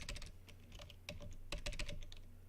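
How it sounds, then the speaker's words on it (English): Rapid clicking of keys on a computer keyboard, uneven bursts of typing, quiet and close with no talking. "I hear you guys hear me typing"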